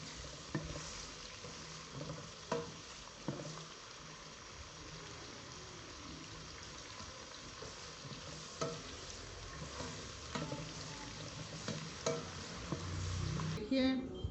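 Chopped onions fry and sizzle softly in a pan for a gobi gosht curry, a steady low hiss with occasional stirring scrapes and clinks, fairly quiet throughout.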